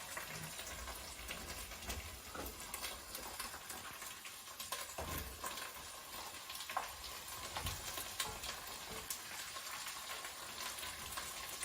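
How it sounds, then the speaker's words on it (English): Potatoes sauté in a pan for Greek-style green peas with potatoes, a soft continuous sizzle broken by scraping stirs, quiet and close, with no talking. "So we're adding in our potatoes slowly while continuing to saute and stirring."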